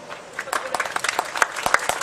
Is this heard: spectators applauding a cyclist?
yes